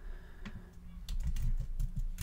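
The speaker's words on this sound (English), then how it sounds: "I'm going to start typing it in." Close typing on a computer keyboard, a few scattered keystrokes at first, then a quicker, steady run of soft clicking taps with no talking.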